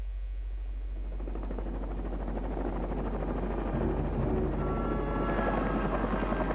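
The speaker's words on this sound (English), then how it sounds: "a helicopter sweeps the waves with searchlights" A helicopter searching over stormy seas drones steadily throughout, its rotor thrum loud and continuous with a broad roar, growing slightly louder and closer toward the end.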